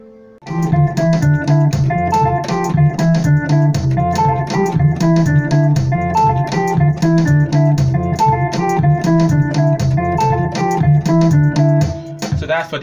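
Piano plays a makossa groove, a busy, rhythmic pattern of repeated chords over a moving bass line, loud and continuous with no talking, stopping near the end.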